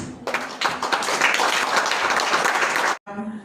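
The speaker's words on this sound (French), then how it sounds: "Je demande un tonnerre d'applaudissements pour nos 10 ministres" Applause for ten ministers at a women's coalition government event: a burst of dense crowd clapping, loud and sustained for about three seconds before cutting off abruptly.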